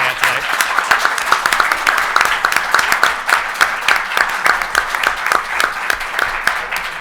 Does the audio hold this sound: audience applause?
yes